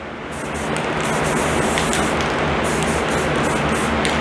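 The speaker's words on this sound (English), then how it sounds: "I'm spraying some above the booth, some below the booth." Aerosol spray paint can hissing steadily, sprayed above and below an overspray extractor booth in a garage; a continuous, fairly loud broadband hiss rising over the first second and holding without pause.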